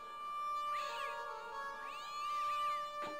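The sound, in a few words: cat meowing in video game Broken Sword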